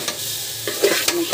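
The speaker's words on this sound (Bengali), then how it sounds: "এইভাবে লাড়ু সারবো ভালোভাবে এখানে পোড়া না লাগে" A spatula scraping and stirring a sizzling jute-leaf and olive mash in a pan, with three or four distinct close strokes over a soft frying hiss.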